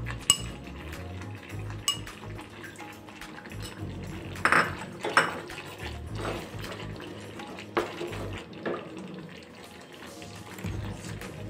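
Jaggery syrup cooking in a pan and being stirred so it does not burn, with repeated scraping and metallic clinks of a spoon against the pan over a soft bubbling background, close and fairly quiet.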